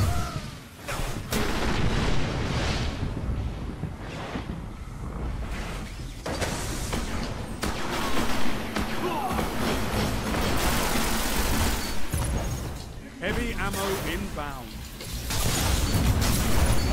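Legendary auto rifle fire in a Destiny PvP Crucible Domination match: loud sustained rapid gunfire with booms and explosions, dense and continuous, with someone talking excitedly over the shooting.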